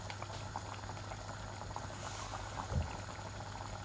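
A pot of chicken and potato curry at a rolling boil bubbles steadily and close by, a continuous low burbling with a slightly louder gurgle near the end, and nobody speaks.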